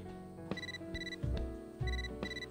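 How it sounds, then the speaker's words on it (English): A phone message notification in the video game Catherine: a bright electronic ringtone of repeating tonal chimes with a few soft thuds, clear and close against a quiet game backdrop. "You got mail."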